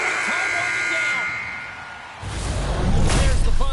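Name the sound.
ice hockey end-of-period buzzer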